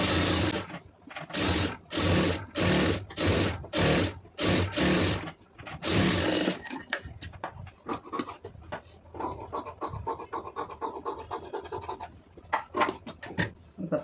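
A sewing machine runs in rapid bursts while stitching a sleeve lining, several loud evenly spaced runs of stitching up close, followed by quieter intermittent mechanical clicks and handling sounds.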